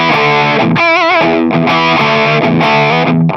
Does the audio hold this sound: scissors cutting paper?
no